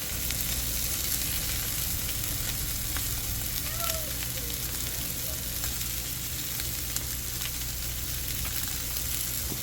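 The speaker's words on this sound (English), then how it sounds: "I'm going to go ahead and throw those steaks on" Steaks searing in a hot pan with avocado oil give a loud, continuous, close sizzle with crackling spatter and a faint stirring scrape partway through, with no talk.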